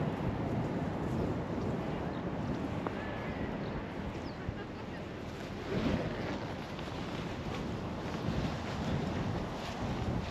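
Wind blowing steadily across the microphone during a cold, breezy boat ride on the Edo River, a continuous rushing roar with low buffeting gusts that lasts the whole stretch, and no talk over it.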